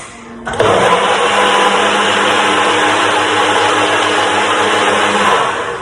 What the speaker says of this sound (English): So I'm just going to whiz this up, excuse the noise for 2 seconds, let's turn it on